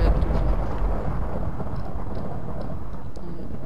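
A lightning strike in the Blitz Survival Games video game sets off a low, heavy thunder rumble that hits hardest at the start, then rolls on as a steady dull roar.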